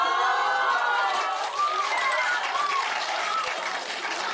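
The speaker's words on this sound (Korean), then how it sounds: "박수 박수." Audience at a Korean international high school breaks into lively clapping, a continuous wash of many hands with a few brighter accents, steady throughout.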